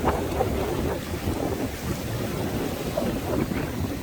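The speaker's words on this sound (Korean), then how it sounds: "가까이서 한번 파도를 한번 맞아보도록 하겠습니다." Sea waves washing against a rocky coastline with scattered rock islets on Korea's east coast, a steady broadband wash under constant wind buffeting the microphone, with no one talking.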